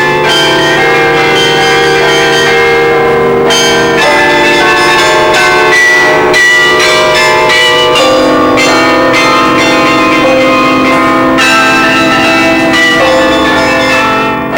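Large carillon bells in a bell tower, played by a carillonneur, ring continuously with rich overlapping tones, loud and sustained, several bells sounding together with periodic strikes.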